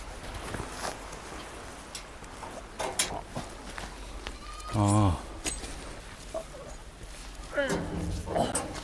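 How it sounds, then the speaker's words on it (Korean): Goats bleating outdoors on a rural island path, a few loud wavering bleats close by at intervals amid wind noise and footsteps. "와 여기 염소 엄청 많은데?"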